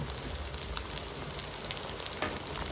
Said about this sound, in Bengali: এখন এই মশলাটাকে খুব সুন্দর করে কষিয়ে নেব